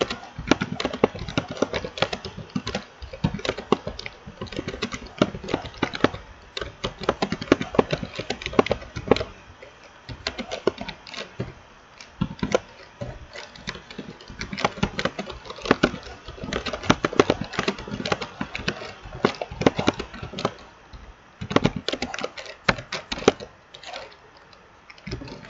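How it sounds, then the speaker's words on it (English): Rapid, continuous clatter of keys on a computer keyboard, close and busy, with brief pauses between bursts of typing. "Just typing something about myself right here."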